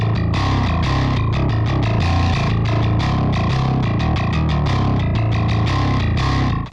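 A distorted, heavily compressed metal bass guitar tone through free plugins and EQ chugs in fast, tight riffs, loud and dense throughout, stopping abruptly at the end.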